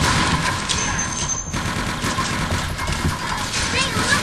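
Shotgun blasts and SMG bursts in the video game Microvolts rattle in a dense, continuous barrage of close, loud shots, with a voice talking underneath.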